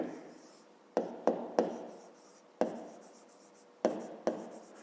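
Pen strokes from someone writing numbers by hand in a school maths exercise, a scratchy rustle broken by several sharp taps as the pen touches down, close and fairly quiet.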